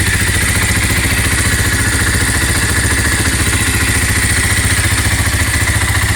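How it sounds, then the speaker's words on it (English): A Kawasaki KL250 Super Sherpa's single-cylinder four-stroke engine runs close by with a basic muffler, giving a steady low, rapid thumping idle with mechanical clatter, loud and continuous, no talking. "Got that typical single cylinder 4-stroke sound."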